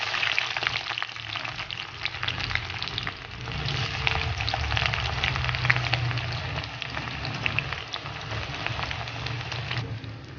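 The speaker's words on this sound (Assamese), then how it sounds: "তাৰ পাছত মই ইয়াত দিছোঁ পিঁয়াজ" Sliced onions fry in oil in a pan over a low gas flame, giving a steady, close sizzle with occasional soft stirring scrapes throughout.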